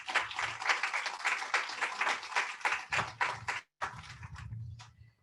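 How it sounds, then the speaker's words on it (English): A crowd applauds steadily with dense, close clapping, a brief pause near the end before the clapping resumes, some cheering mixed in. "give them a huge round of applause"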